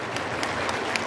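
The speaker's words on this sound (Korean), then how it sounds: "박수하십시다" An audience at a Christian committee founding meeting applauds with steady, dense clapping for a brief moment.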